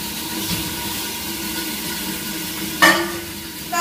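Broad beans (bakla) frying in hot oil give a steady, even sizzle with no voices. A brief louder clatter near the end could be a lid or spoon.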